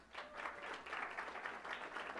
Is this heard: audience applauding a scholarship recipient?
yes